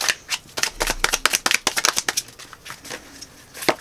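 Tarot cards being shuffled and drawn for a reading, a rapid run of crisp papery riffles and snaps that bunch together, ease off, then return with one last sharp flick, close and fairly loud, no voice over them.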